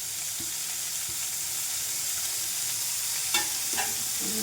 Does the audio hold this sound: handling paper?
no